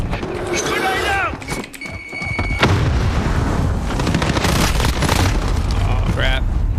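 A grenade blast in Call of Duty: Modern Warfare on PC bursts out amid a dense, continuous wash of gunfire and rumbling battle noise, loud and sustained, with voices talking over the combat.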